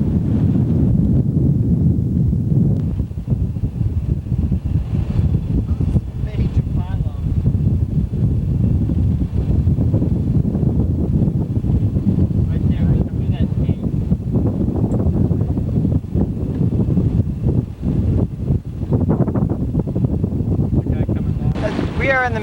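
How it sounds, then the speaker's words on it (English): Strong wind roars across the microphone while sailing on Delaware Bay, a loud continuous buffeting rush over water and boat noise, with a voice faintly heard at times. "A lot of wind."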